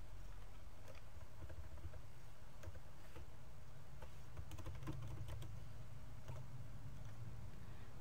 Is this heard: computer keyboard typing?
yes